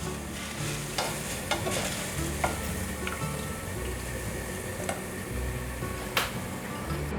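Shredded taro is lifted out of hot frying oil, a continuous low sizzle with scattered sharp clicks from the utensil, fairly quiet, with soft background music.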